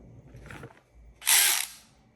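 Snap-on brushless 14.4V micro lithium cordless ratchet, a brief whirring burst of the motor spinning after a faint quieter whir, close by with no talking.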